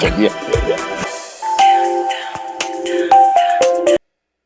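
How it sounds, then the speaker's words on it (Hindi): A phone rings with an incoming call, a bright repeating electronic melody playing for a few seconds after some brief opening sounds, then cutting off abruptly into silence. "कब से फोन लगा रही हूँ तुझे"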